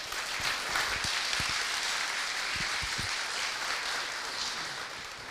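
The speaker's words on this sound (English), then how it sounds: "Another round of applause." Applause from a conference audience at a graphics hardware event, a steady broadband wash of clapping sustained across the whole stretch with faint low thumps, no voices.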